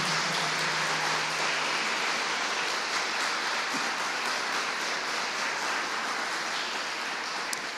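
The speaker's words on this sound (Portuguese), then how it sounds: "Você pode aplaudir esse Deus por isso?" A church congregation applauds steadily for nearly eight seconds, a dense, even wash of many hands that holds at one level and only softens slightly at the end.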